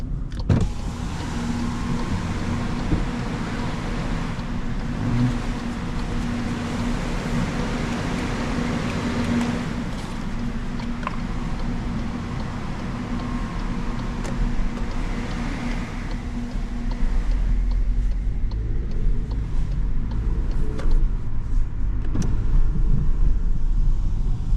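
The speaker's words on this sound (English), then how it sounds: "And now we will depart this pretty big garage and go on a nice relaxed night drive" A Cupra Leon eTSI 150 HP pulls out of a large garage at night, its engine a steady low rumble with a faint whine, growing a little louder toward the end.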